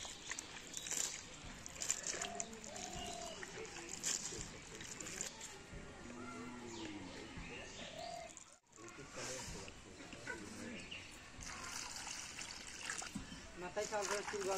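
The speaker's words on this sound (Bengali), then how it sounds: "সব তরকারি এখন আমি ভালো করে ধুয়ে নেব।" Vegetables being washed by hand in water in a village kitchen, with soft trickling and splashing that runs steadily and faintly under background voices and ambient noise.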